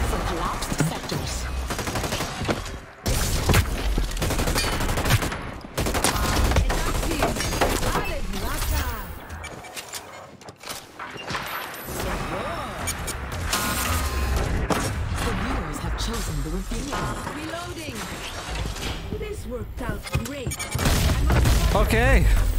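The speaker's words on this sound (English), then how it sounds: "Okay, that's some bombs." Bombs exploding in a video game, dense rapid bursts of booming blasts and crackling gunfire-like impacts layered continuously, loud and close, with a person talking over the action.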